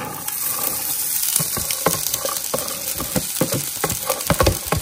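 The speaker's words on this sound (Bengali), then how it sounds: "একটু ভাজা ভাজা করে নেবে" Cooked rice sizzles and fries in a pan with egg white only, with no salt added, giving a loud, busy crackle broken by frequent sharp stirring scrapes and clicks.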